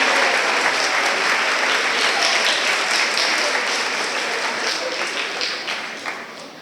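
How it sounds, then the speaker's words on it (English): Sustained, loud applause fills a school moving-on ceremony in honor of a retiring teacher, holding steady before tapering off near the end. "we can also give a quick round of applause to Miss Liu for many years of service to the school"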